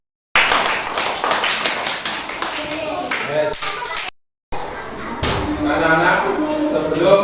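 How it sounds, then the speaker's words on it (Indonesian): A school class of children clapping hands together in a classroom during a religion lesson, loud sustained clapping broken by a brief pause, with voices mixed in. "Oke, tepuk tangan."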